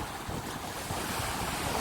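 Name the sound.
rough sea waves in Jamaica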